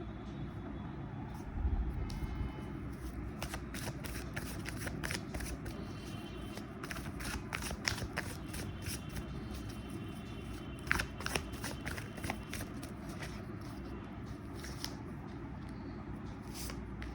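A tarot card deck is shuffled and handled close by in repeated quick riffles and soft card flicks, running beneath someone speaking Hindi throughout.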